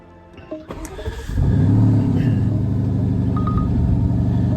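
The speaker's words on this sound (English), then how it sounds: "Let's go ahead and start the 4-liter V8" A starter cranks briefly and a 2025 Porsche Cayenne Coupe GTS's 4-liter twin-turbo V8 fires into a loud, deep rev before settling into a steady, rumbling idle nearby.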